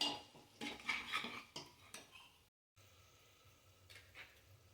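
Egg biryani ingredients with salt and coriander mixed in a bowl with a spoon, quiet clinks and scrapes of metal against the dish in a loose run, then a short gap and softer stirring.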